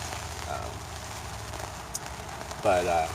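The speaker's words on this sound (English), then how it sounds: "I don't know if you can hear the rain, but it's still coming down" Steady patter of rain on a tent fills the background, with a voice briefly speaking near the end.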